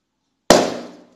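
A balloon held over a lit candle bursts in one sudden, loud, close pop out of silence, followed by a brief splashing decay as water spills out.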